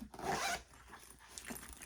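Zipper on a beauty bag opened up close, a quick rasping pull followed by softer scrapes and rustles of the bag.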